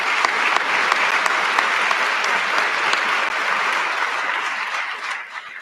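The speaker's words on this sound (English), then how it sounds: "let's give him another round of applause for him" A police promotion ceremony audience applauds the new chief, loud sustained clapping from a large crowd in a hall, steady and full for several seconds before starting to taper off.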